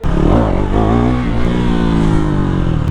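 A KTM Duke 390 motorcycle is revved hard up close for a wheelie, a loud, continuous engine note that climbs and dips in pitch over about three seconds.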